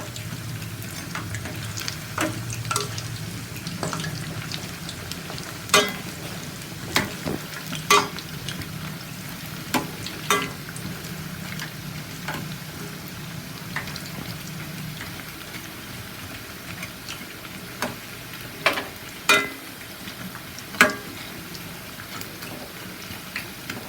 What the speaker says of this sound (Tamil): வறுத்து விடுங்க மெதுவாக.